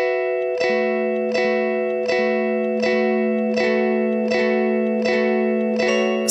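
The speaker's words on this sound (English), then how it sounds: "Repeats sets the number of echoes, from a single echo when counterclockwise to stable, infinite looping when clockwise." Guitar notes run through a Habit echo/delay guitar effects pedal, a sustained chord repeating in evenly spaced echoes about every 0.7 seconds, loud and continuous with no talk.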